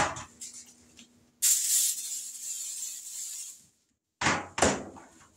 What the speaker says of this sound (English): We're going to spray this with some flour spray